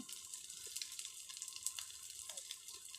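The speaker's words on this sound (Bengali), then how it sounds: "এখন ওই যে লোটা শুটকিগুলো কাটা হচ্ছিল, ওগুলো ধুয়ে একটু হলুদ আর লবণ দিয়ে মাখিয়ে তেলে ভাজা হচ্ছে" Dried loitta fish coated in turmeric and salt frying in oil, a steady soft hiss and sizzle with small crackles throughout, close and alone without talk.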